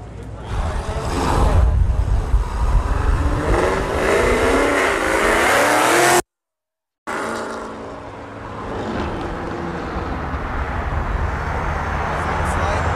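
A car revs loudly at a Cars and Coffee show in Ridgeland, Mississippi, a close, rough engine roar swelling and fading, then briefly cut by silence before continuing more steadily with crowd murmur in the background.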